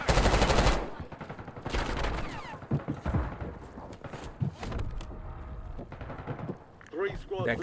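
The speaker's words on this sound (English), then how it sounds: "That guy, I didn't see him, so he put shots on me." Enemy gunfire in the Warzone video game, a rapid loud burst at the start followed by scattered shots and clatter, with bursts dropping into the background.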